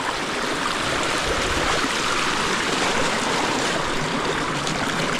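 Steady, close rushing of the Dumaka River, water flowing continuously with a dense, even wash and no voices over it.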